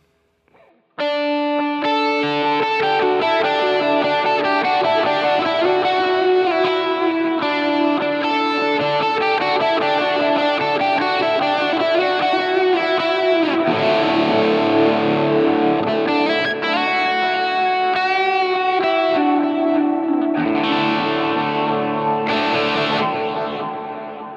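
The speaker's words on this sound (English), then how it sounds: "I'll let you hear how the overdrives with delay and reverb would sound for me on a Sunday morning." Electric guitar played through a Line 6 Helix using an 808 overdrive with dotted-eighth delay and reverb, loud sustained driven chords and notes with echoing repeats and a long reverb tail, played alone.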